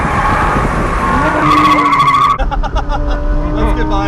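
A Lamborghini or McLaren sports car runs on a race track, its engine revving loudly with sharp tire squeal and skidding through a turn, while a voice talks over it.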